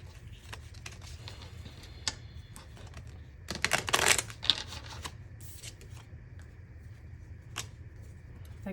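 Tarot cards being shuffled by hand, a quiet stream of soft riffling flicks with a denser, louder burst of card slaps midway, alone without talk.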